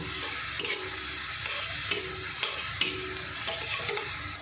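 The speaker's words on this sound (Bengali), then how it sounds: "আমার পেঁয়াজটা ভাজা হয়ে গেছে, আমি তুলে নেব এবার তেল থেকে" Onions sizzle steadily in hot oil, broken by regular scraping stir strokes roughly every half second; no one speaks.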